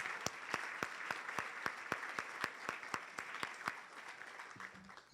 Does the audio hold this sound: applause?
yes